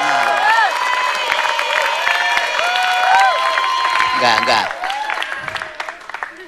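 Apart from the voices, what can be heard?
audience applause at a wayang golek show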